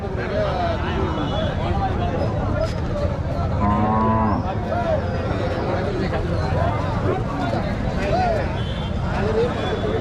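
Large cattle, some of them pregnant cows, low and moo repeatedly at the Mattrapalli cattle market. Several drawn-out calls rise over a constant crowd babble and the general noise of the busy market.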